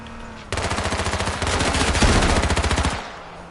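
Rapid bursts of automatic gunfire in the game H1Z1 Battle Royale, a sharp rattling stream of shots starting abruptly, pausing briefly, then continuing before cutting off.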